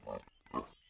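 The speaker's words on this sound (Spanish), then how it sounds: "¡Cerdo!" A pig oinks twice in quick succession, two short close grunts with a brief gap between them, alone with no other sound.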